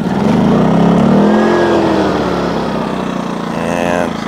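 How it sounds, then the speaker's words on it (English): An Atima AY2000i portable inverter generator is cranked and starts up loud and close, its engine note rising then settling into a steady mid-pitched running drone. "So step one, we're going to crank our Atima."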